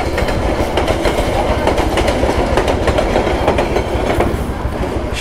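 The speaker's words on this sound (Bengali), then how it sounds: "আমরা এমন সময় মেন রোড থেকে ঢুকে পড়ছি যখন ট্রেন যাচ্ছে" A train rolls past a crossing by a main road near Sitakunda, loud and close, its wheels beating a steady clickety-clack over a continuous rumble from start to finish.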